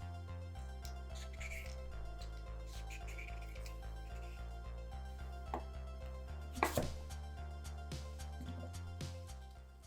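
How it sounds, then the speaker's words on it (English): Knife chops peeled turnips on a cutting board in sharp, irregular taps, close and clear over a steady background of music. "For the turnips, we just peel them and cut them in half."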